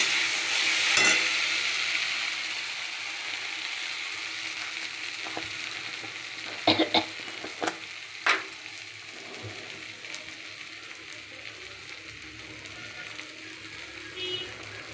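Small fish curry with onion cooking in a pan, a continuous close frying sizzle with a few sharp stirring clinks and knocks, no speech.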